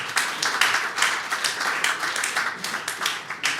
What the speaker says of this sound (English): I think we deserve a round of applause together this morning.